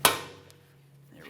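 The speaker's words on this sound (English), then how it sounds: "I'll give it a loving tap with my hammer." Single sharp metallic hammer tap against the front brake rotor of a 2003-2007 Honda Accord, ringing briefly and decaying with a faint low hum, followed by a light scrape.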